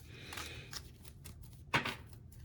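A deck of cards is shuffled close by in a few quick riffles and rustles, ending with a sharp snap of cards, all quiet and without talk.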